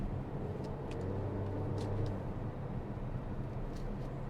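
SsangYong Torres SUV accelerating hard under kickdown, heard from inside the cabin as a steady low engine drone and road rumble at moderate level, without talk.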